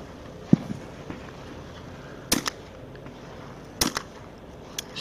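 Shotguns firing at clay targets during a competition final: two pairs of sharp, quick reports a second and a half apart, heard at a moderate distance over a quiet outdoor hush, with a fainter pop before them.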